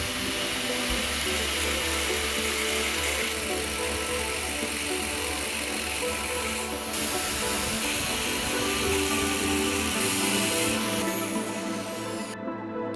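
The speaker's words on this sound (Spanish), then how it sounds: "Debemos cortar el núcleo de los transformadores por estas líneas de soldadura. Para ello, utilizamos una amoladora angular." An angle grinder cuts through the laminated steel core of a microwave oven transformer along its weld lines, a loud continuous whine and grinding roar that holds steady for most of the stretch before cutting off near the end.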